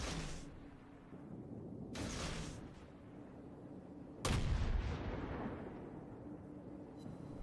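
Heavy naval cannon blasts from the destroyer Hatsuharu in World of Warships boom at intervals, each a sharp crack followed by a long rumbling decay, with a low droning background between shots.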